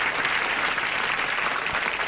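Studio audience at a 1979 Tic Tac Dough game show, a steady wash of applause for two contestants, even and moderately loud throughout with no voices over it.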